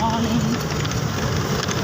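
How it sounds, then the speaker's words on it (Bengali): Morning rain falling steadily outdoors under a dark sky, a dense, continuous broadband hiss that holds at an even level for under two seconds with no clear pauses. "সকাল বৃষ্টি পড়ছে"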